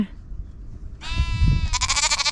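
Sheep on a farm bleat close by, two quick wavering calls following a low rustle, loud and clear with no talk.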